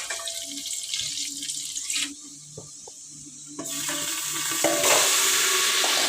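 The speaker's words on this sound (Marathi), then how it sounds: "थोडासाच कांदा घालणार आहे फोडणीसाठी" Onion sizzles in hot oil for tempering, a hissing crackle interrupted by brief stirring scrapes, growing louder toward the end.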